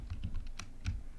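Computer keyboard keys pressed in a quick run of separate clicks, some lighter and some sharper, close by and fairly quiet, with no voices.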